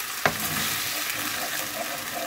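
Tofu stirred in a pan of ketchup, soy sauce and honey sauce thinned with a little water, a steady bubbling sizzle with one sharp utensil knock near the start, close and fairly loud with no voices.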